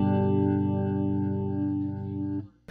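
An electric guitar played through a rotary speaker effect holds a chord with a swirling, organ-like churn, close and steady, cutting off near the end.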